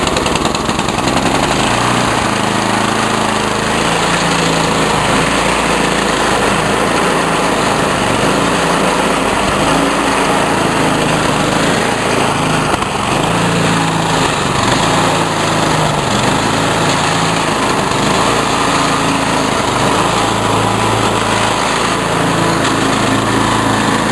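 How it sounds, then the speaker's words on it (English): A small snowblower engine, about half the size of another machine, runs steadily and loudly throughout with a buzzing, high-revving drone and no talk. "coming to steal my friend's snowblower"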